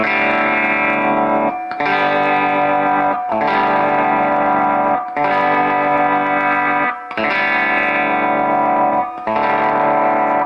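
An electric guitar sounds through a 3300 picofarad ceramic capacitor on a tone test board, playing a series of loud, sustained distorted chords, each ringing for about two seconds before a brief break.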